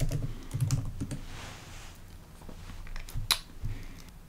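Keys clack on a computer keyboard while a folder is named on the desktop, a close burst of quick irregular taps with short pauses, and one sharper click near the end.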